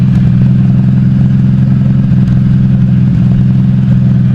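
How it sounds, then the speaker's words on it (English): Engines of a couple of four-wheelers (ATVs) on a nearby trail, a steady loud low drone with a clattering edge that holds evenly throughout, with no talking. "Got a couple four-wheelers coming down, kind of over here where the four-wheeler trail's at."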